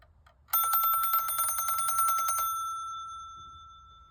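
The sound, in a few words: Cortelco Classic telephone bell ringing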